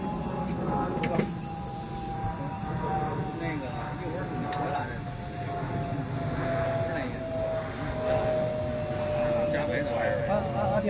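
A small mapping drone carrying an A7R camera flies an automatic mission, its steady high-pitched motor whine drifting slowly downward in pitch over a continuous outdoor noise bed, with no voices during the pass.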